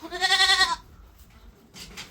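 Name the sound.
goat bleating, black billy goat on a farm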